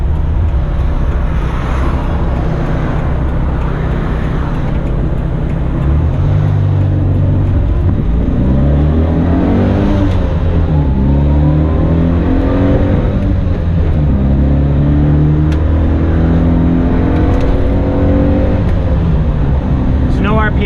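A tiny 1983 Daihatsu Hijet van's engine, heard from inside the cab, rises in pitch, drops back at each gear change and climbs again through second, third and fourth, a loud steady drone with some speech over it.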